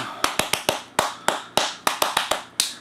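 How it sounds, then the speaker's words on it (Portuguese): Flamenco palmas: sharp, distinct hand claps in a compound-time rhythm, roughly a dozen crisp strikes played close and alone, with no other sound. "Com as palmas, aquela percussão bem característica do, do flamenco"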